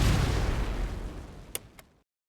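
An explosion in the retro shooter Ion Fury, a broad roaring blast that fades over about two seconds, followed by two small sharp pops before cutting to silence.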